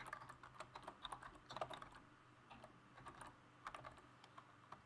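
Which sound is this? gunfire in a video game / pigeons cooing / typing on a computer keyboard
typing on a computer keyboard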